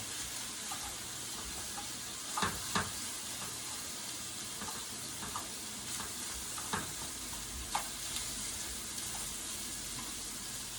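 Bacon sizzles steadily in a pan, with a few sharp pops and clinks breaking through the hiss; no one speaks.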